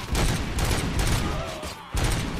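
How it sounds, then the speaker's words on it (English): Gunfire in RoboCop: Rogue City, a dense, loud fusillade of overlapping shots and blasts with a brief gap before the firing resumes. "Are they shooting lasers?"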